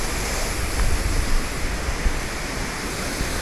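A small forest waterfall pours in a steady, dense rush of water heard up close, even and unbroken, with no voices.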